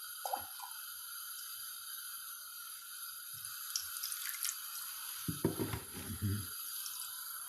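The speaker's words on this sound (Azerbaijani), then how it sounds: "Belə, yəni biraz çıxana kimi su əlavə edirik." Water poured from a tap into a pot of chicken buglama, a short gushing splash standing out over a steady background hiss, with a few faint drips before it.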